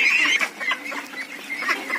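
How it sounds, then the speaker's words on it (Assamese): A flock of 184 ducklings calls continuously while being fed, a dense, steady chorus of high peeping and quacking close by with no pause. "ইয়াত মোৰ 184টা হাঁহৰ পোৱালি আছে"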